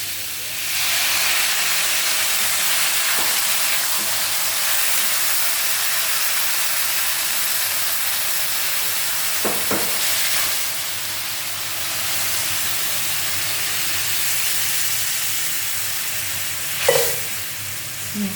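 Water poured into a hot pan of bottle gourd curry with lentil dumplings sets off a steady, loud sizzling hiss that runs throughout, with a few brief louder spits and bursts of steam along the way.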